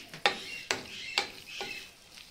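Boiled toor pieces are stirred into a minced-meat stuffing mixture in a pan, giving a few soft scraping, clicking strokes at a steady pace, close and quiet with no voices.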